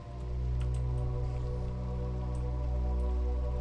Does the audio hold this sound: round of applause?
no